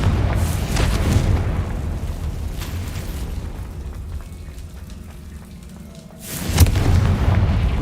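Confringo blasting curse going off in Hogwarts Legacy, a fiery spell explosion: a loud booming burst at the start rumbling away into a quieter stretch, then a second heavy blast near the end, with no talking.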